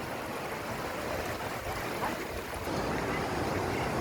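The Munzur River waterfall at Ovacık in Tunceli gives a steady, broad rush of flowing water that stays loud and unbroken throughout.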